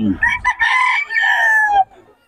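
A Sweater bloodline gamefowl rooster at Bocaue market gives one loud, close crow, a few choppy opening notes drawn into a long sustained call that cuts off sharply.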